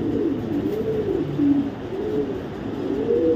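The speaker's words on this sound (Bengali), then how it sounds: "2021-এর অ্যানেলের কবুতর" A pigeon held in the hand gives soft, low, repeated coos in a steady rolling rhythm, close by and alone, with no talking.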